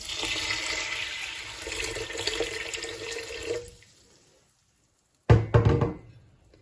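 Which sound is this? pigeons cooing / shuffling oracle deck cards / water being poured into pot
water being poured into pot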